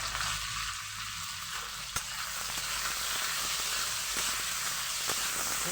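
Amla (Indian gooseberries) fry with turmeric and salt for a pickle, producing a soft, steady sizzle and hiss, with one small clink and occasional light stirring sounds, quiet overall.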